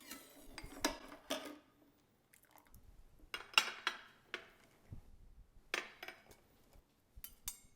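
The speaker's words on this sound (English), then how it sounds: "And then carefully remove. I use a slotted spoon, and I like to blot them on a towel." A metal slotted spoon clinks and scrapes against a pot as coddled eggs are lifted out, giving a series of sharp, close clatters separated by short quiet gaps.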